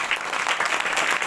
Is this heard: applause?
yes